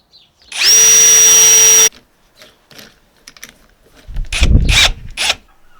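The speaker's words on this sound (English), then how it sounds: "So I got a 4mm to pre-drill all the holes and a 10mm to make the holes a little bit bigger so the screw head falls in it" Power drill with a 4mm bit pre-drilling screw holes, one sustained high whine lasting about a second, then quieter scattered clicks and a few louder bursts of handling or drilling noise.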